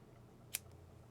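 A single quick snip of scissors cutting a medium-length crochet yarn tail, faint and close against a quiet background.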